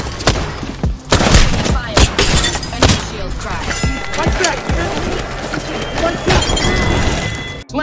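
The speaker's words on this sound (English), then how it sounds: "Opening fire." Gunfire in the video game Apex Legends: rapid bursts of shots with sharp cracks and booms, loud and up close, with a voice talking over the firing.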